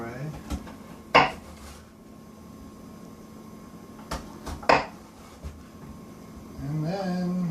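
A knife chops vegetables on a cutting board, giving two or three sharp, close knocks spaced seconds apart over a low steady room hum.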